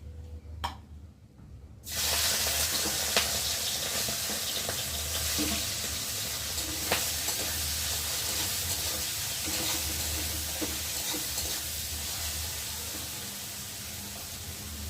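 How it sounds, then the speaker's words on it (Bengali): Prawns frying in hot oil in a wok, a sudden loud spitting sizzle after a quiet start, then a steady dense crackle with occasional sharp pops, close up. "আর এখন আমি কড়াতে তেল দিয়েছি। আর এখন এই দেখো, চিংড়ি মাছগুলো ফার্স্টে ভেজে নেব।"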